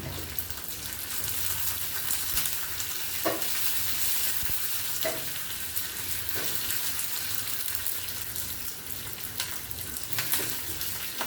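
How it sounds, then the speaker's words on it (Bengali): Steady crackling sizzle of curry leaves frying in hot oil, with occasional scrapes of a spoon stirring the pan, fairly close and continuous. "কারি পাতাটাও ভাজা হয়ে যাক, দিয়ে দিলাম।"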